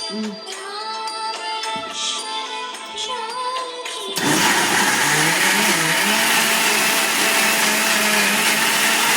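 Wet grinder churning idli and dosa batter, a steady loud motor roar kicking in abruptly after a few seconds of quieter whirring and clatter, then running continuously without talk.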